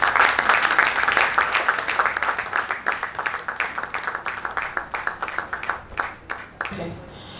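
Audience applause at an ICSAN Lagos State Chapter investiture ceremony: a dense crowd of clapping hands, steady and loud at first, then thinning into scattered claps before fading out near the end.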